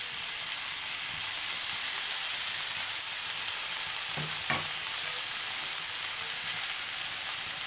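Chili chicken sizzles steadily in a frying pan as soy sauce goes in, a continuous broad hiss with a couple of brief stirring knocks near the end; no talking.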